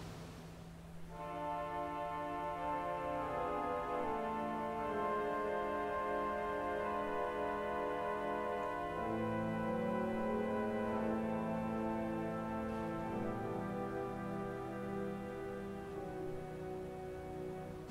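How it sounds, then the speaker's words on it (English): A pair of soft Hill string stops on a William Hill pipe organ's swell sound in a church, sustained chords held alone and changing slowly, steady and quiet throughout. "including this gorgeous pair of Hill strings"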